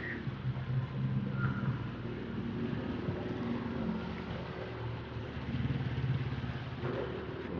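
Motorcycles and motorcycle tricycles roll past on a roadside, their small engines buzzing and droning steadily for several seconds, loud and close, with some rattling clatter as they go by.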